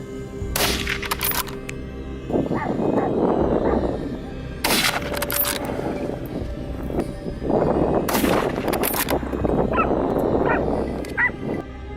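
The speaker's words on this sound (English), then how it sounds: "Gunshots rang out continuously." Gunfire aimed at invasive wild boars during a farmers' hunt, with several sharp shots spread through the clip among sustained rumbling noise, and dogs barking and yelping in between.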